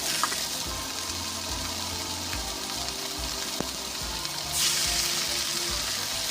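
Vegetables stir-fried with chicken liver in a pan over a medium-low gas flame give a steady, close sizzle that swells louder toward the end, with occasional clinks of stirring.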